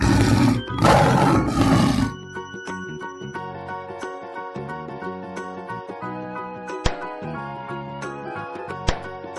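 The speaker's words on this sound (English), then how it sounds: "Tiger." A loud, rough tiger roar bursts out for about two seconds, followed by a light tinkling musical tune with occasional sharp clicks.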